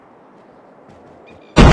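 A grenade blast in Call of Duty Mobile goes off suddenly as one loud, full burst after a stretch of quiet game ambience, and it stays dense and roaring to the end.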